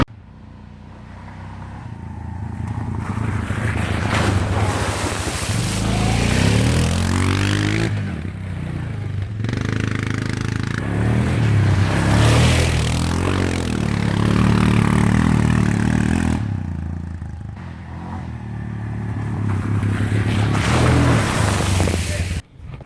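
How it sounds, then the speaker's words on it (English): An eight-wheel-drive Yamaha Suzuki 800 quad ATV churns through mud, its engine revving and labouring in long loud surges with clattering and scraping, falling back briefly between pushes. "The Yamaha Suzuki 800 8-wheel drive quad dirt bike whatever thingy. It did all right."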